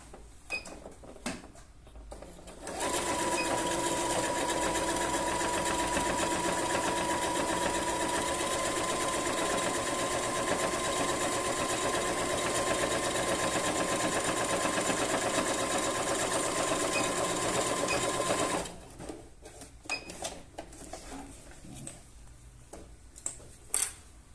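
A sewing machine runs nonstop for about fifteen seconds while stitching a patchwork seam, a loud, steady, close mechanical whir with a clear hum. Quieter handling sounds come before and after it.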